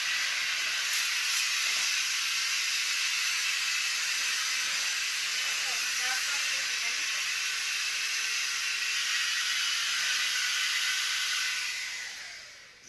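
Dirt Devil 3-in-1 Cordless Reach Max Plus vacuum cleaner running: a steady, loud, airy motor whine and hiss lasting about twelve seconds before cutting off at the end.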